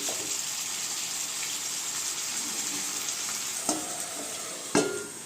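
A pepper chicken masala paste cooking in a pan gives a steady close sizzle, then two short knocks of a spoon against the pan near the end.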